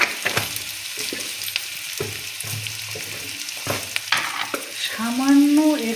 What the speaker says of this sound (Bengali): এগুলোকেও লাল করে ভেজে নিতে হবে, যেন সাদা থাকবে না, পুরো যেন পেঁয়াজটা লাল হয়।